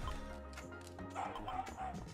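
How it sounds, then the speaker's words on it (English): A dog barks in the video game Perfect Heist, several quick yipping barks mixed with whimpers, fairly faint and close together over a low game rumble. "Oh god, the doggy! The doggy's on me!"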